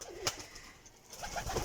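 Imported breeding pigeons kept in a loft coo softly in a brief, faint burst of low, throaty calls, with a few quiet rustles in the background.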